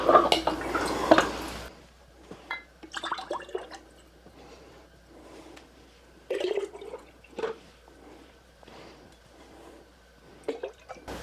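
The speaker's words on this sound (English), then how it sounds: "So I'm going to divide what we have, making a mess, for 5 jars, and then we'll just add some water to it." Turkey broth poured and divided among five glass canning jars, with a burst of liquid splashing at the start followed by scattered drips, clinks and brief pours at close range.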